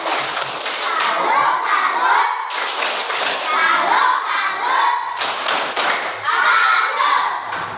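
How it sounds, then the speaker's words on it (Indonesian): Children in a classroom clap a rhythmic salute cheer in three bursts, fast hand claps and thumps mixed with their chanting voices, loud and close. "Mari kita tepuk salut"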